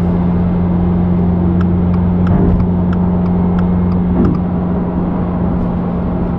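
A Subaru VB WRX fitted with a Tomei full titanium Type-R exhaust idles with a loud, steady droning rumble, punctuated by a series of short clicks and two brief rev swells.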